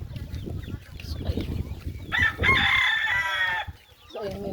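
Chickens cluck softly at first, then a loud rooster crow cuts in for over a second, followed by more clucking, all heard outdoors at moderate distance.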